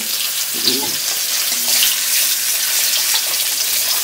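Eggs fry in a pan, giving a constant close sizzle and crackle with brief faint bubbling and clinks.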